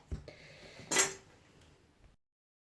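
A metal spoon scrapes and gouges soft clay while a kurinuki pot is hollowed out, with a brief scrape near the start and a louder, harsher rasp at about the one-second mark, then quieter scratching before it stops.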